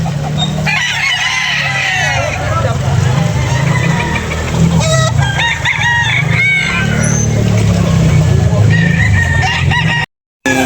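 Roosters crow and chickens cluck loudly at a busy poultry market, with people talking throughout and a steady engine rumble underneath; the sound cuts out briefly near the end.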